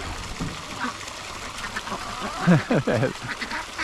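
A Swedish Blue duck quacks in several short, raspy calls close by while picking at frozen feed outdoors on a farm, the quacks clustering toward the end over low background noise.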